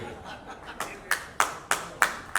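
A handful of sharp, separate hand claps at a book launch, about six in a steady rhythm that grows slightly stronger, over a faint murmur of room noise.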